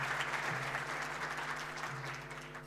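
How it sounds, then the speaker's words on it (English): An audience applauds at a national ICT summit: dense, steady clapping from many hands that fades slightly toward the end, with no talk over it. "please can we give a warm round of applause"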